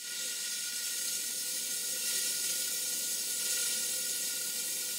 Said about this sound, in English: This is the blower, and it's very noisy, and it really is blasting a lot of steam up the chimney.